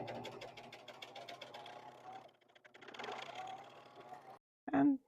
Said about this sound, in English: turn on the machine. Test sewing on with a scrap piece of fabric to make sure everything is threaded